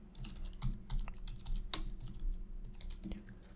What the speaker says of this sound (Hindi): सो मैं यहीं पे टाइप कर देता हूँ